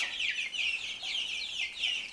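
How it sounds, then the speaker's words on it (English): Young black Australorp chickens, about four weeks old, clucking and peeping steadily in a close, continuous chorus of chirpy, overlapping calls, with no talk. "My chickens are black astralorp chickens."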